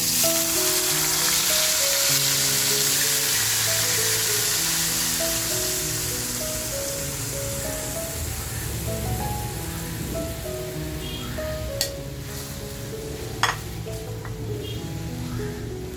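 Ground masala sizzling in hot oil after asafoetida, for a rawas fish masala: a steady, loud crackling hiss that eases slightly over time, with a few sharp pops and a faint voice talking underneath.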